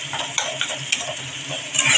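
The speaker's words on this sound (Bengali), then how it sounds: "যেহেতু টমেটো আমি ঠিক করে কেটে দিয়েছি তাই আমি একটু নেড়ে দিচ্ছি, মানে টমেটোগুলো একটু গালিয়ে দিচ্ছি খুন্তি দিয়ে" A spatula scrapes and stirs chopped tomatoes in a sizzling pan with quick, irregular strokes and light metallic taps over a steady frying hiss, up close, with no talking.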